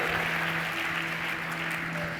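Congregation in a church applauding steadily, a dense even wash of clapping with a faint sustained organ or keyboard tone underneath.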